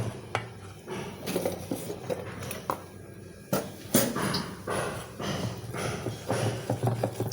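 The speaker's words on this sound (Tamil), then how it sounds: "நல்லா கலந்து விட்டுக்கோங்க" Banana pancake batter being mixed in a bowl, with repeated scraping and clinking of a utensil against the bowl in an uneven rhythm, close and fairly clear, with no voices.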